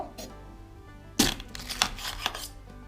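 A very sharp knife cuts decisively through boiled eggs, giving a crisp crunch of shell followed by a few lighter taps and knocks on a board, all fairly quiet and close.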